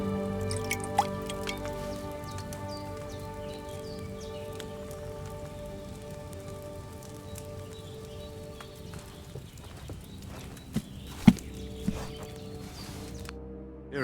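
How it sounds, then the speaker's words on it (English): In Kingdom Come: Deliverance II, a potion is poured into a glass phial as a steady trickling drip, with a few sharper clinks near the end over a quiet background. "Get a phial and pour it in."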